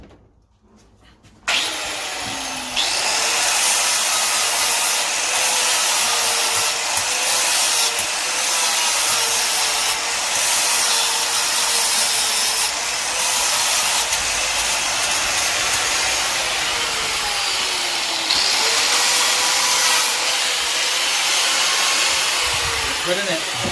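An angle grinder cleans up metalwork on a Bedford CA ice cream van, spinning up after a short pause into a loud, continuous high-pitched whine with a rasping grind against the steel, held close and steady until the end.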